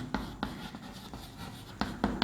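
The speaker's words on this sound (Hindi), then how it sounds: "तो मैं लिख देता हूँ नेग्लिजिबल" Marker or chalk writing by hand on a board during a chemistry class lesson, a few sharp taps and short strokes spaced irregularly, close and clear against quiet room tone with no talk.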